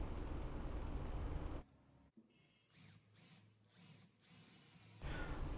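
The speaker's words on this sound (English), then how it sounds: "I did pre-drill these holes first" A power drill pre-drills screw holes in a wooden woodworking project, whirring in several short bursts between quieter pauses, with broader noise at the start and end.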